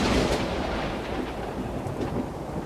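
A violent thunderstorm with a loud, continuous rumble of thunder and rushing wind, dense and close, filling the whole moment without any voices.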